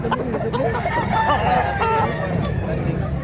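An old rooster crows amid a busy yard, its call rising and wavering through a background murmur of voices and other fowl.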